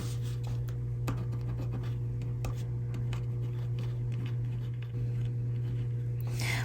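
Pen scratching across paper while writing out handwriting to be foiled, a soft continuous scribbling with light strokes over a steady low hum, close and quiet, no talking.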